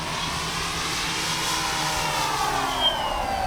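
Avios Grand Tundra V2 RC airplane flying overhead, its electric motor and propeller giving a steady buzzing drone with a gently shifting pitch, continuous and moderately loud.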